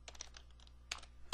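Quick bursts of typing on a computer keyboard entering event parameters into code, a few clustered keystroke runs with short pauses between, fairly faint and close with no talking.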